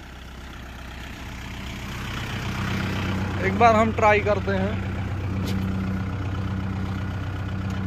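A Kubota 4501 tractor's diesel engine runs steadily in a field, a close, continuous low drone that swells slightly partway through, with someone speaking over it.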